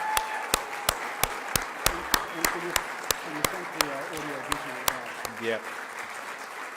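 Conference volunteers get a round of applause at a Griffith University climate event; sharp, evenly spaced claps ring out close by over a thin spread of clapping while someone talks throughout.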